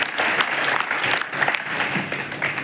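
An audience at a business team gathering in Sambhajinagar claps steadily throughout, a dense, continuous round of applause from many hands with no voices standing out.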